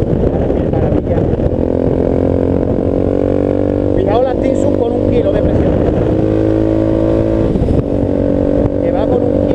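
A VOGE 300 Rally motorcycle engine drones steadily and loudly on an off-road countryside trail, with small rises in revs, while the rider talks over it almost the whole time.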